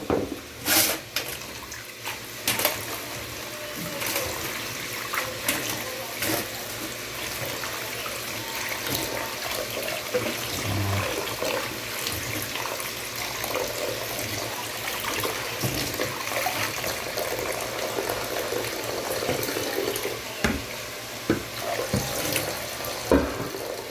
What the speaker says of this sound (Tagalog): Tapos hugasan natin yung kangkong.